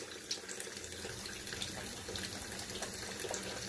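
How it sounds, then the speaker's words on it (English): Water poured from a shaving soap container into a shaving scuttle during a straight razor shave, a steady close trickle and splash running throughout with no talking. "You can see the water kind of dribbled off the side, and I just pour that into my Scuttle"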